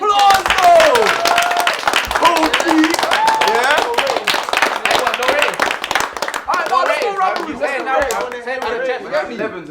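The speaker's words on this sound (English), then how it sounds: "round of applause, though!" A few people clap and laugh in a small room during a casual music review session, brief claps mixed with chatter and overlapping talk throughout.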